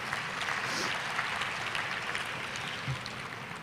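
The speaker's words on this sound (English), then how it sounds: "Give yourselves a round of applause" Attendees at a conference networking luncheon applaud in a large room, a fairly faint but sustained wash of clapping that holds steady throughout, with a low murmur of voices underneath.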